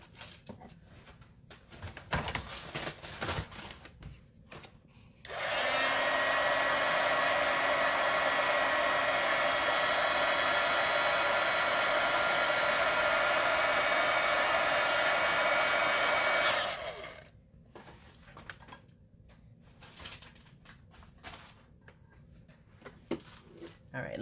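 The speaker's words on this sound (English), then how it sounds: "I'm going to dry it with my heat gun" A heat gun blows steadily for about eleven seconds, drying a layer of watercolor paint on a paper fold project, a loud broadband whoosh that starts and stops abruptly, with quiet handling and light talk before and after.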